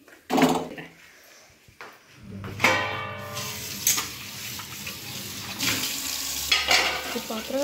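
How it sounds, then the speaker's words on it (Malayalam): Dishes being washed in a kitchen sink under running tap water, with bursts of flowing water, clinking utensils and scraping clatter at close range. "പാത്രം കഴുകി തീർന്നില്ല. പാത്രം എത്ര കഴുകിയാലും തീരത്തില്ല."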